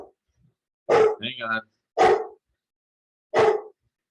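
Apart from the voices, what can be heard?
dog barking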